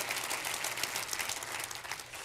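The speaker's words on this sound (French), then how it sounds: "que nous puissions applaudir et rendre hommage aux piliers de l'église" A church congregation claps together in a brief, even burst of applause, moderately distant and fairly soft, with no speech over it.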